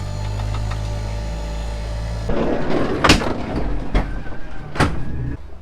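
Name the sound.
New Holland bucket loader tractor engine running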